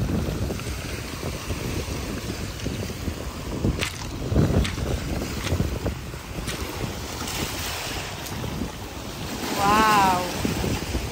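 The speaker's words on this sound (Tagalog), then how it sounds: "Oh, lakas ng hampas ng alon." Strong sea waves crash and churn against the shore, with a continuous rush of surf and heavy wind buffeting the microphone. Swells surge now and then, and a brief wavering squeal rises near the end.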